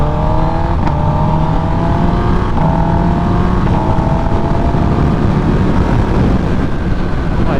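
A 2023 Kawasaki ZX-10R sportbike accelerating hard on the road, engine tone climbing steadily through the gears with a few brief shifts, loud and continuous with steady wind noise.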